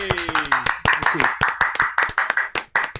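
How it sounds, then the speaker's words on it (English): Podcast hosts clap for a guest in a small studio, sharp close claps in a quick irregular burst while voices cheer and talk over them. "So can we please have a huge round of applause really, for Waylon?"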